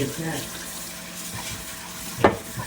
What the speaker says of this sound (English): Let's rinse cold water. We're gonna swish it around,